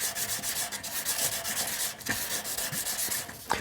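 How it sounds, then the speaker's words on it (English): Steady rubbing and sanding strokes of a buff stick turned round and around inside a silver ring, a continuous close scratchy friction with small rhythmic surges and a couple of sharper scrapes. "When you're buffing the inside, you're constantly turning the buff stick round and around."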